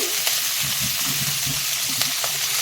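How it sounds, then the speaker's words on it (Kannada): Coriander leaves and green chilies frying in a pan, a loud, even hiss of sizzling oil up close with soft low crackles and faint stirring ticks, no voices. "ಕೊತ್ತಂಬರಿ ಸೊಪ್ಪು ಸ್ವಲ್ಪ ಫ್ರೈ ಆಗಬೇಕು"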